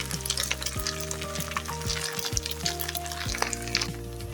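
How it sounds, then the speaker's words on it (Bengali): Chicken and jackfruit seed kebabs fry steadily in a pan, giving a continuous crackling sizzle with scattered pops and low hum across the whole stretch, fairly close and alone without voices. "এই যে দেখেন কাবাবগুলি কিন্তু আমার ভাজানো হয়ে গেছে"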